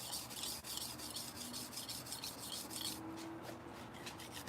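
A blade is rubbed back and forth on an abrasive sharpening stone, a close, steady rasping scrape in rapid repeated strokes.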